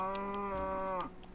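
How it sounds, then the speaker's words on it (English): A Minecraft cow lets out one drawn-out, steady moo lasting about a second, close and fairly loud, then it cuts off into quiet game ambience. "Oh, these cows are stuck."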